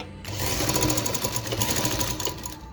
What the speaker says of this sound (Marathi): फोल्ड करून इथे टीप घेणार आहोत आणि मग पुन्हा अशी टीप घेणार आहोत